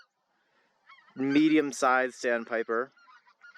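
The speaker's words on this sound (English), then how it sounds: "Greater white-fronted geese are trying to talk over me." Greater white-fronted geese honking in a loud, close burst of several nasal calls on an inland Alberta birding outing, overlapping a man's speech.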